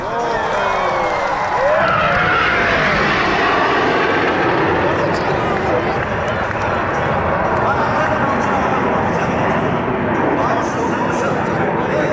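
Jet aircraft of the Turkish Stars aerobatic team roaring past loudly at an air show in Bodrum, a sustained rushing engine noise with a shifting whine as two planes sweep overhead, people's voices partly under it.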